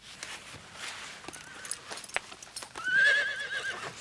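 A mare whinnies close by as hooves clip-clop at a walk, in a Western drama scene, with the neigh rising clearly toward the end.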